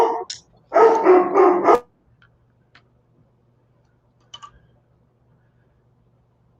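A dog barks in a quick burst of two or three close, loud barks near the start, then the scene falls mostly quiet apart from a low steady hum and a few faint clicks.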